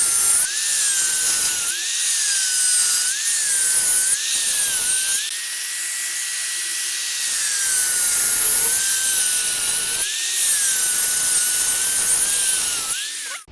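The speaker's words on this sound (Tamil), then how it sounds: "இப்போ இந்த ஸ்கொயர் பைப்பில் இதுக்கு நேராக பார்த்தீங்கன்னா ஒரு 2-3 லேயர் வந்து நம்ம லைட்டாக கட் பண்ணி விட்டுப்போம்" A square steel pipe is lightly cut with a power tool, a loud, close, continuous high-pitched whine that wavers in pitch as the blade bites, running unbroken with no speech.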